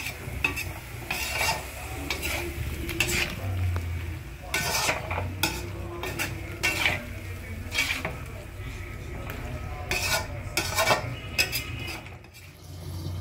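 A spice masala is stirred and cooked down in a pan with a little water: irregular, close scraping strokes of a spoon against the pan over a soft, continuous sizzle.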